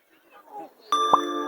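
A single bright phone notification ding for an incoming text reply, sounding sharply after quiet murmured talk and ringing on with a sustained tone.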